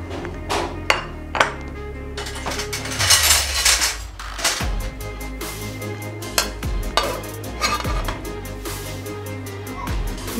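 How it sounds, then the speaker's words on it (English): Utensils shred boiled chicken in a dish, giving a series of sharp clinks and knocks at irregular intervals over softer scraping and rustling, close and fairly loud. "And then we're going to shred it."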